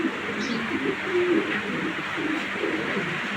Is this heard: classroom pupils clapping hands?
no